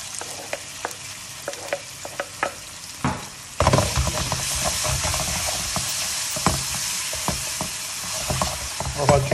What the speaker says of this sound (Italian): Faccio soffriggere aglio e cipolla